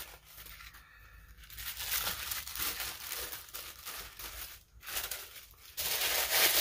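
Plastic wrap crinkles and tears as a 4K Blu-ray case is unwrapped, with continuous close, loud rustling and crackling in uneven bursts and no talking.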